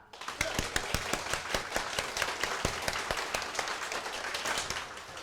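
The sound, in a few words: audience clapping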